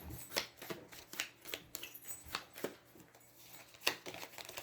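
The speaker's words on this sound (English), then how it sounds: "Shuffle any player's turn order card back into the turn order deck." Someone shuffles a small deck of turn order cards for the Aeons End board game, making quiet, irregular riffling snaps and soft slaps close by, with no talking.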